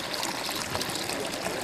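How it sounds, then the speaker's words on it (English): Water poured from a container drains away in a south-of-equator demonstration in Kenya, a quiet continuous trickle and splash with no voices. "Here once again, I pour the water,"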